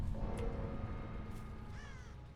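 Crows cawing in an online video game. A few harsh, nasal caws ring out over a low background rumble, one early and a drawn-out call near the end, moderately loud and with no one speaking.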